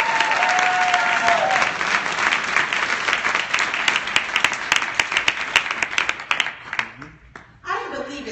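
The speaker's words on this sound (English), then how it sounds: "I didn't believe the hand clap you just gave me" Audience applause at a champions dinner for an organization's top national directors, dense hand clapping filling the room and fading toward the end, with cheers and a voice rising over it at the close.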